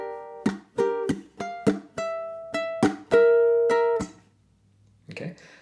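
Ukulele strummed in a new chord shape with a pattern of down and up strokes broken by muted chucks, ringing close and clear. It is followed by a brief noisy scrape at the end.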